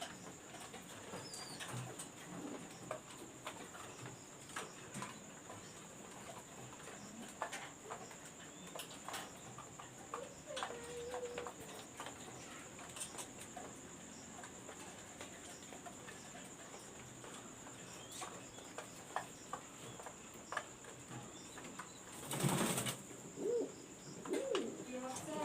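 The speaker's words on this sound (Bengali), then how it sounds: "আমার ব্রিডিংয়ের ভিতরে যে কবুতরগুলো রয়েছে আমি আপনাদেরকে দেখাচ্ছি" Pigeons coo faintly in breeding cages, soft low calls spread through a steady hum of background noise, with a brief sharp burst near the end.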